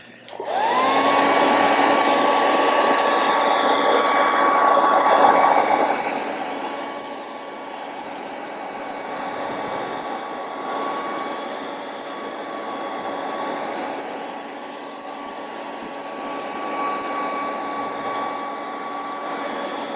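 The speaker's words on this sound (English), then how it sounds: "I'm going to hit this with the hair dryer before I set it back down" A hair dryer blows steadily on a quarter-scale figure sculpt, a loud close whooshing roar with a thin motor whine that starts abruptly, eases slightly after a few seconds, and runs on continuously alone.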